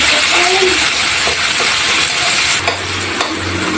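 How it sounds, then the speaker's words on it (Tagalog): Chopped onion and ginger sizzle loudly in a hot pan after garlic, a dense continuous hiss of frying with a few stirring scrapes and clinks close by. "Saka po natin ilalagay po yung sibuyas saka luya."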